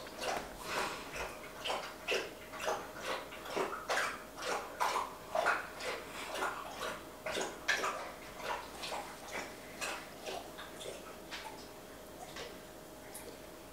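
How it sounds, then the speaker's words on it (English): A dog laps water from a bowl in a quiet room, a fast, regular series of soft wet licks that keeps up steadily before tapering off. "and Marley walked over to drink his water."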